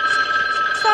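A telephone rings in a 1976 drama film, one short, steady electric bell burst, loud and close.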